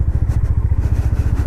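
A Honda CB350 motorcycle on a ride from Bengaluru toward Chikkamagaluru, its engine a close, steady low thumping pulse at a constant pace.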